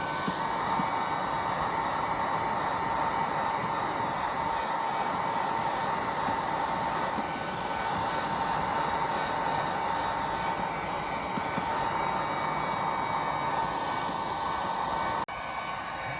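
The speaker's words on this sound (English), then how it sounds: "So make sure you move this heat gun side to side, and it definitely works." A heat gun runs continuously at close range for the whole stretch, a steady loud blowing roar with a faint tonal whine, passed side to side over scratched plastic trim on a Toyota RAV4.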